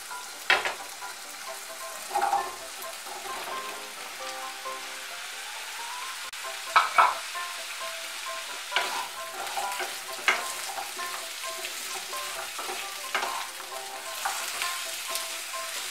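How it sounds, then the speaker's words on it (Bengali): Potato pieces frying in hot oil in a pan for a bitter gourd and pumpkin dish, a continuous close sizzle punctuated by repeated scraping stirs of a spatula, no talk. "আলুগুলোকে একটু ভেজে নেব।"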